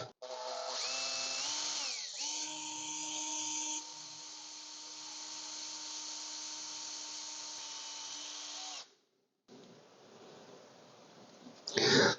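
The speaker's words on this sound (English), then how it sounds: "Okay, and we just start drilling a hole." A power drill boring into a Zamac diecast metal body, a steady high whine that spins up, holds for several seconds while cutting, then stops, followed by quieter handling noise and a loud final clatter.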